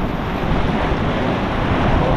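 Roaring surf and wind wash over everything in a dense, continuous rush, like heavy waves pounding nearby on the sea off Camiguin Island, with gusts hitting the microphone.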